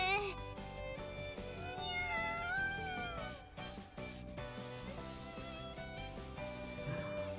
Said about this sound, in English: It was in fact a small black cat.